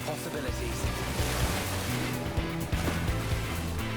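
In a Final Fantasy XIV Dawntrail trailer, ocean waves wash steadily under a dense bed of music. A small boat bobs on the open sea.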